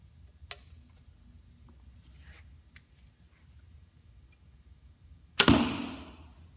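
A 2016 Mathews Halon compound bow shot twice: two faint, quick snaps from the very quiet release, then a louder sharp smack with a short ringing tail, close by in a calm setting.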